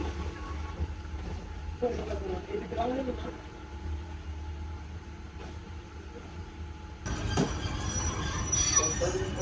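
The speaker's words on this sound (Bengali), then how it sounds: "আন্তনগর বিজয় এক্সপ্রেস ট্রেন কিশোরগঞ্জ রেল স্টেশনে এসে দাঁড়ালো" The Bijoy Express intercity train pulls into Kishoreganj railway station, its rumble carried under a voice. Near the end a louder surge of wheel and carriage noise rises as the train comes in.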